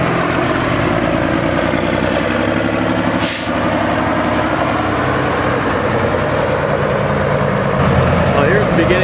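An International 966 Hydro tractor at a tractor parade rumbles loudly and steadily at idle with a deep engine drone. A short hiss bursts out partway through, and a voice talks faintly under the engine.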